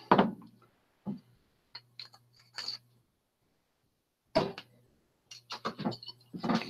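Buchanan's Deluxe 12 Year whisky is poured through a bottle's pour device, giving short bursts of clicking and rattling with quiet pauses between them, close and fairly faint.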